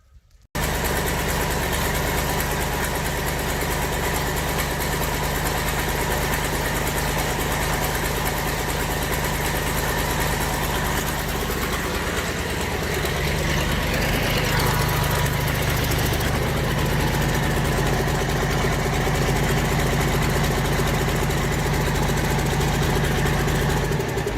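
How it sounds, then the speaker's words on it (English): A Fordson Major tractor's V8 engine runs steadily and loudly throughout, a constant rumbling drone that climbs slightly in pitch partway through as it revs up. "So we're going to run the engine up"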